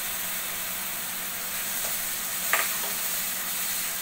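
Green chili, ginger and asafoetida sautéing in a pan give a soft, steady hiss close by, with a brief spatula scrape near the middle.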